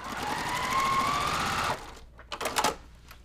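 A sewing machine stitches a quilt block, running in a steady fast whir for under two seconds before stopping, followed by a few faint handling clicks in a quiet room.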